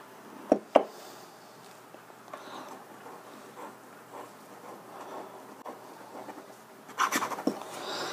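A Lamy Safari fountain pen writes on paper with faint, soft scratching strokes in a quiet room, broken by a few sharp clicks near the start and a louder scratchy burst near the end.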